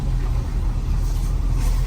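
A Suzuki Samurai engine crawling off-road in low range gives a steady, loud low rumble that holds throughout with no talk.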